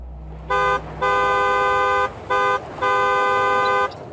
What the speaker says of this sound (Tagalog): pinagpipindot ko rin ng maraming beses ang busina